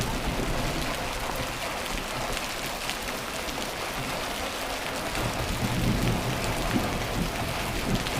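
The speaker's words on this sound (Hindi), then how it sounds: "और बादलों के गरजने की आवाज़ आप सुन सकते हो," Low thunder rumbles from storm clouds beneath a steady, dense roar of hail and rain pounding surfaces in a Uttarakhand village hailstorm, the downpour continuous and loud throughout with no voices.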